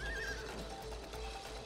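A horse whinnies in a memory game within the video game It Takes Two, a short wavering neigh at the start, followed by light clip-clop hoofbeats over a faint, steady game background.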